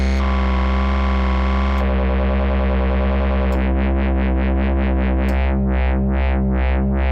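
A Majella Implexus synthesizer plays with the oscillator modulation pushed to the maximum on a sine wave, giving a loud sustained tone that steps lower in stages and turns into a pulsing, wobbling throb.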